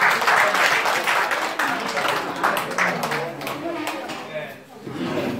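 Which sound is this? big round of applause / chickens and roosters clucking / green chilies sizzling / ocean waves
big round of applause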